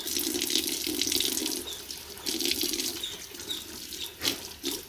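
Tap water runs steadily into a kitchen sink while a sponge is rinsed and squeezed under the stream, with splashing that surges and eases in uneven bursts.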